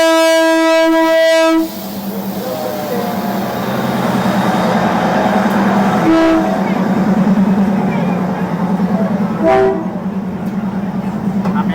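A train horn blares, then a train thunders past about 30 centimetres away, a loud steady rumble and clatter with brief horn blasts.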